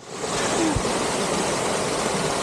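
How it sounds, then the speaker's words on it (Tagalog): Digisit Waterfalls in Baler roaring steadily close by, a dense broadband rush of falling water with no pauses or voices. "May waterfalls kami na daanan dito."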